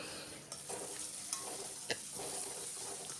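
Onions and potatoes being stirred in a pan for egg curry: a few short spoon scrapes against the pan over a faint steady sizzle, close and quiet, no talk.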